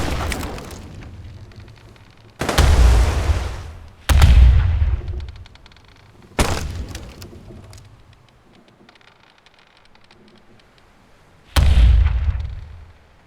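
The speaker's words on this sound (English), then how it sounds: "And a second volley smashes into the other ship, causing devastating damage and a fire." Cannon volleys boom as sailing ships fire at each other in a naval battle: four heavy, loud blasts at uneven intervals, each with a long rumbling decay, and no speech.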